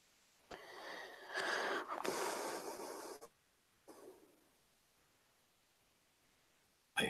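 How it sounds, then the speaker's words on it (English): Heavy, raspy breathing comes in a few loud bursts, one long strained stretch followed by a short gasp and quiet pauses, close to the microphone with no talking. "I hear somebody breathing."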